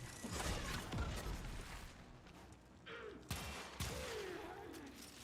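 Weapons fire in the video game Warframe in rapid, dense bursts of shots that thin out midway, followed by a couple of sharp impacts and a whooshing sweep, fairly loud and close.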